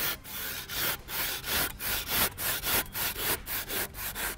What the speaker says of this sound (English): So here we've got a standard timber handsaw. Due to the aerated nature of Evo-Crete, it cuts quite easily, as you'll see.